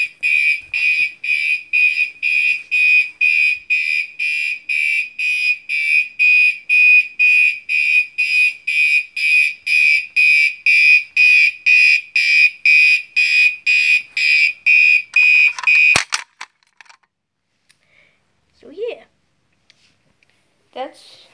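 Fire alarm coded in march time, the Commander 2 horn pulsing in a fast, even on-off rhythm for about fifteen seconds, loud and close, then a sharp click as it stops, leaving faint handling noises.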